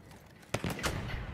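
Gunfire in the video game Battlefield 1, a sudden sharp shot followed by a few quick bursts against faint background game noise.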